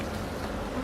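Bees buzz around an open beehive during an inspection, a brief, close, steady hum with no voices.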